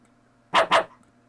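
Two quick dog barks from the video game LISA, loud and close, one right after the other, with a faint steady hum of game music underneath.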